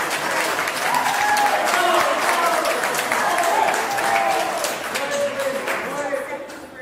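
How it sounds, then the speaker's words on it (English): Applause breaks out in a courtroom during a pretrial hearing, a steady, dense crowd clapping that holds at a strong level for several seconds with voices mixed in, then tapers slightly. "I can't recall having ever seen applause erupt in a courtroom"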